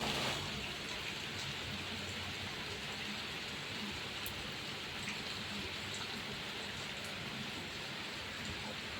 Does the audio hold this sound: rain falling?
yes